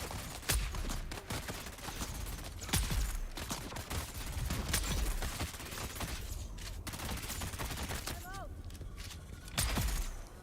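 Rifle shots ring out in the video game Dune as a string of sharp, loud cracks spaced a second or two apart, over a busy ambient game background.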